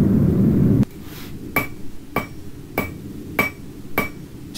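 Rounding hammer striking hot metal on the beak of an anvil while drawing out a taper: six sharp ringing blows at a steady, slightly spaced rhythm, close and loud, after a brief burst of roaring background noise.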